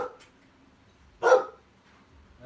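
A dog named Jax lets out a single sharp bark partway through an otherwise quiet stretch, fairly close, with faint room noise around it.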